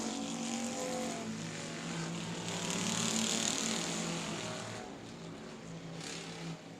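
Pure stock race cars at South Texas Speedway, their engines roaring steadily in a continuous loud drone that swells slightly and then eases, with no talk over it.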